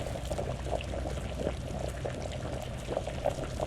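Rice boiling in a pot while cooking in the game VEIN, a steady close bubbling and simmering texture that continues without a break and with no talk over it.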